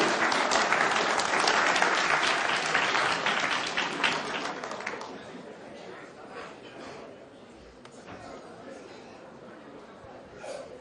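An audience claps steadily at a stage comedy performance, loud dense applause at first that fades and thins out toward the end.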